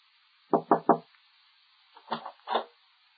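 Three quick knocks on a door, sharp and close, followed by a few lighter, less distinct knocks, with quiet pauses between the groups.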